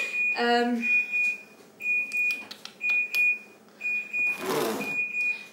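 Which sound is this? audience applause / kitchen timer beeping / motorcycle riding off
kitchen timer beeping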